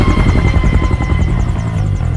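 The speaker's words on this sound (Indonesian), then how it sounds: "Meskipun aksinya diketahui oleh Wade, helikopter itu pun tetap diturunkan" A helicopter in an action film scene roars loud and close, its rotor blades chopping in a steady rapid pulse over a heavy engine drone throughout, with no speech.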